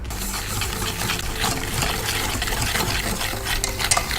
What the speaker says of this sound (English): You whisk it because you want it to be a nice consistency.